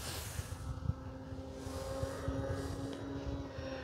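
An FMS PA-18 Super Cub RC model plane, a 1.7 m electric model, flies out over a field with a steady propeller drone under heavy, gusty wind noise.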